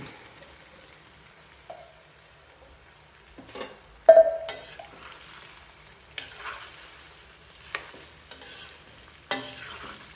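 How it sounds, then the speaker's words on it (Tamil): Boiled amla (gooseberry) pieces frying in hot oil, a faint, quiet sizzle punctuated by scattered clinks and scrapes of a spoon stirring in the pan, close by. "இது எண்ணெயிலே கொஞ்சம் நேரம் நல்லா வறுபடணும்"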